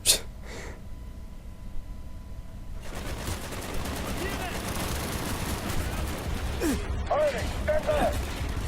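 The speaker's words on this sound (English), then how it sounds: "Oh, we have some more mortars." Mortar fire in Call of Duty Black Ops arrives as a thump, then dense rumbling explosions and crackling gunfire build into a steady loud barrage, with a person talking over the combat.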